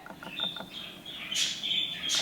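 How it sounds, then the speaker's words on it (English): Several small birds chirp and tweet in short high bursts, fairly faint, against quiet outdoor background noise. "Those birds are so loud."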